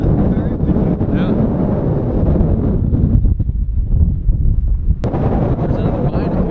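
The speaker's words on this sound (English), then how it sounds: "It is breezy up here. It's very windy." Strong wind on a summit buffets the microphone in heavy continuous gusts, easing briefly midway before surging again; no talking.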